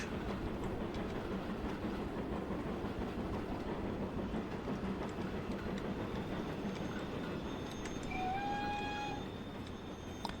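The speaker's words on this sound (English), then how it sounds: "Got our first train arriving into Dawlish." Train arriving at Dawlish station on the seafront in the Transport Fever 2 video game, a steady rolling rumble with clickety-clack wheels and brief squealing brakes near the end, moderately quiet.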